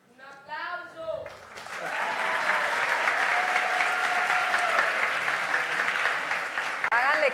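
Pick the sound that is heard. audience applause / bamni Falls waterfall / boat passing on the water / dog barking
audience applause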